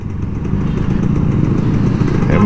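A Kawasaki Ninja RR 150 two-stroke motorcycle revs on an empty road, its engine note swelling from a lower hum into a louder, sustained rasp close by.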